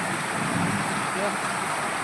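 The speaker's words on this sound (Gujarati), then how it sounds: "જોઈ શકો છો મિત્રો, કેવો વરસાદ વરસી રહ્યો છે." Heavy rain pours steadily over a village as a dense, even hiss with no breaks, and a voice is faintly present beneath it.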